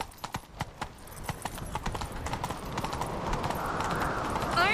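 A horse gallops in The Witcher 3 video game, with rapid rhythmic hoofbeats close up that blur into a rising rush of movement and wind as the pace builds.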